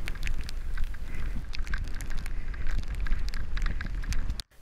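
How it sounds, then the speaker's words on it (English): Sleet and hail pelt down steadily during a countryside walk on the Yorkshire Wolds Way, a dense close patter of icy drops mixed with wind buffeting, ending abruptly. "Before long, I was engulfed by dark clouds raining sleet and hail."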